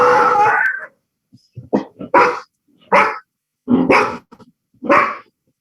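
Several sharp dog barks in short bursts after a brief opening stretch of louder barking, fairly close and with quiet gaps between them.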